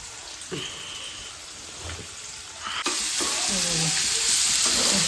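Fish frying in a pan gives a soft sizzle that suddenly swells into a loud, dense, continuous crackle partway through, with faint clinks and tonal sounds underneath.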